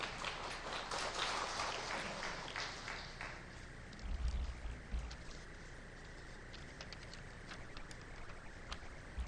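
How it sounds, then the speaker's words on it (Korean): Applause from a church congregation greets a deacon coming up to speak at a Sunday service, a soft, somewhat distant patter of many hands that continues steadily. "우리 박수로 격려하면서 맞이하겠습니다"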